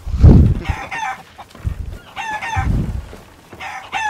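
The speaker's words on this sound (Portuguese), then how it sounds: "Já pegou a sua galinha pra vender?" A chicken in the pirate video game Sea of Thieves clucks and crows in three loud, repeated bursts of calls, with low thumps of game sound between them.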